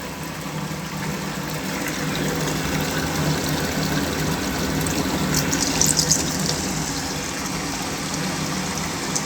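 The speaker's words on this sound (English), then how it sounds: "the orifice meter has now been fully filled with water." Water rushes steadily through the pipework of a lab venturi and orifice meter apparatus as it fills, a loud continuous gushing flow with a pump-like hum underneath and a brief splashy surge midway.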